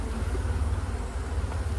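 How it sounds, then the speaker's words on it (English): Honey bees buzz around hive frames during an early colony inspection, a steady low drone close by with no talk over it. "plenty of bees here"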